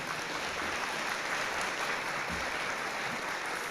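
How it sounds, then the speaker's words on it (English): Steady, distant audience applause at a guide dog class graduation ceremony, a dense, even wash of many clapping hands that holds at a constant level throughout. "how about a round of applause for these folks that made this happen?"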